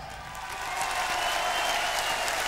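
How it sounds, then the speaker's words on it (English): A concert crowd at a 1991 show applauds in a steady, dense wash of clapping that swells slightly and holds for the whole stretch, with no talking over it. "give them a big hand"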